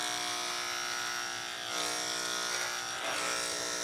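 A Wahl KM10 dog clipper runs with a steady close electric buzz while trimming a Goldendoodle's thick coat, its pitch shifting slightly as it moves through the fur, with no talking.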